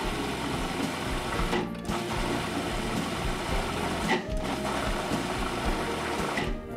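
A food processor pulses strawberry preserves with white balsamic vinegar, running as loud, steady motor whirs broken by two brief pauses.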